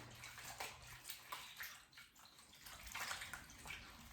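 Leeks being shaken and swished in a bowl of water in a home kitchen, giving soft continuous sloshing and splashing with brief surges, moderately close and fairly quiet, no voices.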